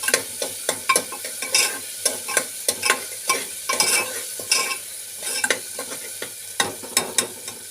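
Tomatoes frying in a pan under a constant soft sizzle, while a spoon scrapes and stirs in repeated clinking strokes, close and without talk.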